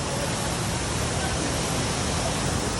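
Taytay Falls waterfall in the Philippines gives off a dense, steady rushing roar of falling water that fills the whole span evenly, loud and close with no breaks.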